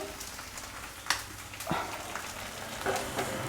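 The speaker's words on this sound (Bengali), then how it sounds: "ভাজতে ভাজতে বাদামি কালারের মতো হবে" Taro (gathi kochu) frying in a pan until brown, a low steady sizzle broken by a few soft stirring knocks and scrapes, quiet and close, with no voices.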